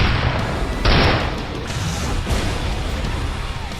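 Gunfire in Counter-Strike: Global Offensive: a dense, loud burst of game shots and booms, with a sharp blast near one second, then continuous rattling fire and impacts throughout.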